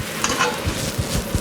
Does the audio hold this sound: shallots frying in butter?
yes